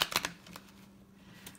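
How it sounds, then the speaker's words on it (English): Tarot cards being shuffled by hand, a few quick crisp riffling bursts at the start followed by quieter soft shuffling and rustling, close up with no talking. "As we all know, I'm a terrible shuffler."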